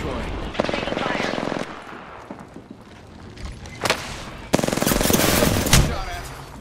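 Bursts of rapid automatic gunfire in Apex Legends ranked play, loud, close bursts separated by quieter gaps, with a player's voice talking in between.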